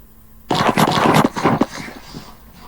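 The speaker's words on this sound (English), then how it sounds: "That's the phone grabbing one." Phone grabbing sound effect: a close, busy burst of rustling, scraping and handling noise lasting about two seconds after a quiet start, fading away at the end.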